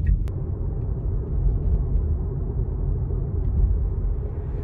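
Cabin of a Tesla Model 3 cruising at 50 km/h, a steady low road rumble and muffled tyre noise filling the interior, even and moderately quiet with no engine note.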